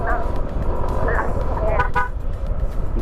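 A motorcycle horn toots in short honks on bends of a mountain road, heard over loud engine and wind rumble, with someone talking at the same time.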